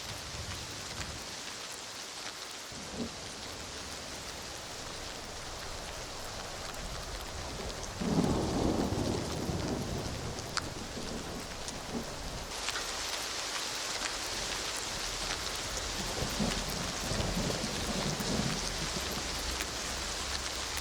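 Rain and thunder in the video game Skyrim, a steady wash of rainfall on surfaces with rumbling thunder swelling in the middle and again later, heard alone without talk.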